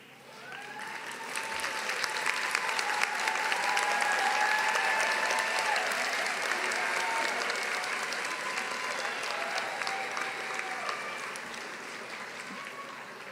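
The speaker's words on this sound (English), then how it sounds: "I ask the graduates to please rise and offer a round of applause for our village" Graduates at a nursing school commencement ceremony give a long round of applause, swelling to a dense, sustained roar of clapping across a large hall before slowly easing off.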